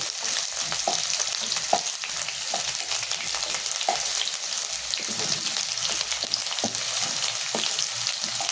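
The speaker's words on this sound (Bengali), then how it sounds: "একটু লাল করে ভেজে নেব" Pieces of catla fish frying in a small amount of oil, a steady close sizzle with scattered crackling pops running throughout, no voices.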